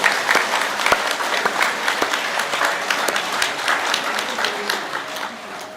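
An audience at a spiritual discourse bursts into applause, a dense, sustained clapping that fills the whole stretch and slowly tapers toward the end.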